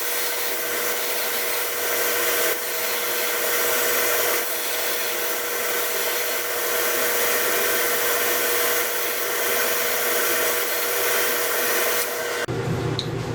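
A power sander runs steadily while truing up a handed-made knife handle, a continuous broadband whir holding at an even, fairly loud level for about twelve seconds before cutting off abruptly.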